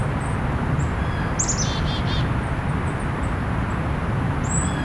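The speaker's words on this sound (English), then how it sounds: "And a blue jay. And there is a golden crown kinglet vocalization. That ring ring." A golden-crowned kinglet and a blue jay in winter woodland: a couple of brief, high, thin call notes and one short ringing call over steady low background rumble.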